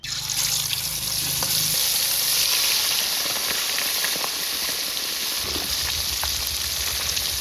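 Fresh river fish (chapila) frying in oil outdoors, a steady broad hiss and sizzle running loudly and continuously throughout, with a low rumble underneath.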